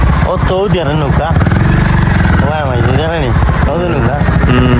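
A motorboat's engine drones loudly and steadily on a river where the Surma meets another river near Sylhet. A voice talks over it throughout.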